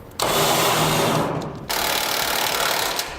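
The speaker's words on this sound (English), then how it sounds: "now we'll snug down our frame brackets using an 1/8" socket" Socket wrench snugging down frame bracket bolts on a Chevy/GMC pickup during a Curt custom fifth wheel installation, two close bursts of steady buzzing power-driver noise separated by a brief break.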